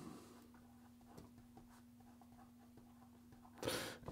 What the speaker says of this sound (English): Here we go with the writing sample for the Pelikan